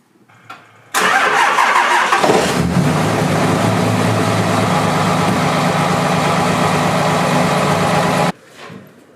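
A truck engine cranks briefly, catches with a rumble and settles into a loud, steady idle for several seconds before cutting off.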